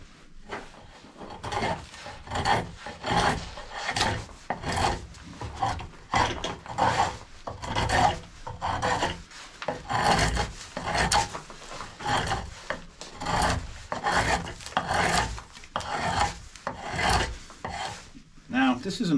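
Mild steel hand tool shaping a hardwood handle, close, steady rasping strokes in a regular back-and-forth rhythm, each stroke a loud scraping rub, with no talk.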